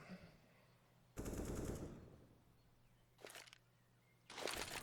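Bursts of automatic gunfire from a wall bang kill in the video game CS:GO, three separate loud rattling volleys with quieter pauses between them, no talk over it.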